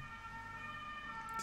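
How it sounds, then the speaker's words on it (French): A siren wails steadily on a Paris street, heard at moderate distance against low traffic rumble with no one speaking. "Petite sirène."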